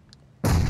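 A grenade blast in the mobile battle-royale game PUBG Mobile erupts suddenly after a quiet lead-in, a single loud, broad boom that holds at full strength to the end without fading.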